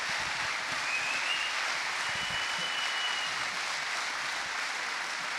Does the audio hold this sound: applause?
yes